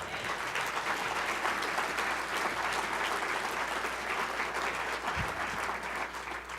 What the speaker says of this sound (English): we really need to give Christine a big round of applause